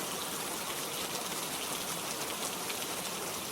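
Rain falls at night over a bamboo forest, an even, dense hiss of drops that stays steady and moderately soft throughout, with no voices.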